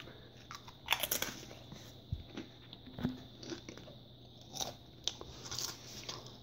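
Olw Schlager potato chips, sea salt and onion flavour, bitten and chewed close to the mic, giving sharp crisp crunches followed by several rhythmic chewing crackles with no talking.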